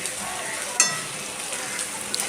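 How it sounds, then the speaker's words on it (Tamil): Onions sauté in a pan for onion chutney with a light, constant sizzle and a clack or two of stirring, close and fairly quiet. "நல்லா வதக்கி விட்டுக்கோங்க பாருங்கள் இந்த அளவுக்கு நல்லா வதங்கணும்"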